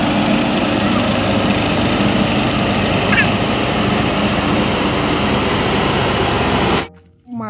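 A steady, loud motor drone like a small engine runs continuously for several seconds, close and unbroken, then cuts off abruptly near the end as a voice begins; it comes from a toy steamroller among a row of toy vehicles.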